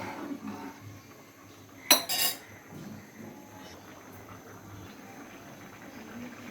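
A metal lid is set onto a pot of boiling chana dal with a single bright clank. A low simmering bubble continues underneath.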